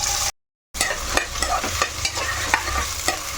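Onions drop into hot oil and sizzle steadily for a chicken curry, a dense close frying hiss with regular stirring knocks after a brief silent gap at the start.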